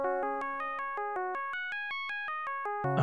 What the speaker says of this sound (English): The phone is ringing, yes.